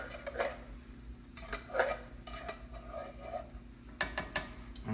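Tomato sauce being stirred into pork chops frying in a pan for a Filipino-style dish: a steady sizzle with repeated scraping stirs of a utensil against the pan, close and moderately loud, with no talk.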